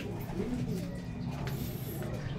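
Racing pigeons cooing near their loft as birds return from a 157 km race, with steady soft coos and some bird chatter throughout, close by.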